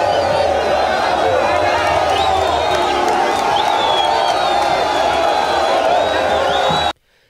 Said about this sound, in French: un bain de foule a été offert au couple présidentiel au sortir des installations aéroportuaires